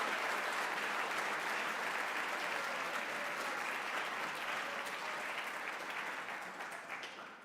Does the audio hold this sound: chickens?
no